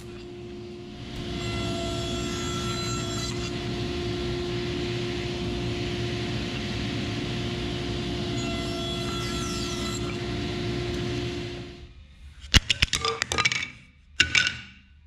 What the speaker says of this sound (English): I'm going to go ahead and rip the sides to that dimension.